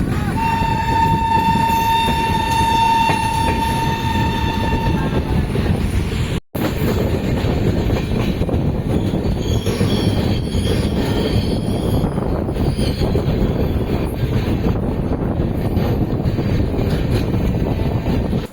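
The Chozhan Express rolls along the rails near Cuddalore Port Junction, opening with a sustained squeal of wheels or horn tone before settling into a loud, steady rumbling clatter of carriages in motion.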